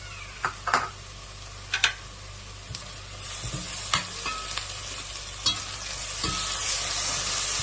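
Browned onions with ginger garlic paste sizzle in a pan for seeraga samba lamb biryani, with sharp scrapes and clinks of a spoon stirring at intervals over a steady, close frying hiss.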